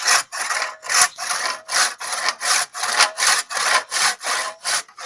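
Hand saw cutting wood into small firewood chunks, a steady rhythmic rasp of about ten back-and-forth strokes, close and loud, with no talking.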